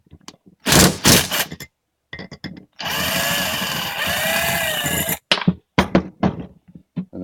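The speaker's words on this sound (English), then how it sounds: "Then use the impact to take the nut off so that you don't loosen the stud." An impact wrench spins a nut off a stud on a stainless steel bolted tank fitting in one loud, sustained burst of roughly two and a half seconds. Shorter clanks and knocks from handling the tool and parts come before and after.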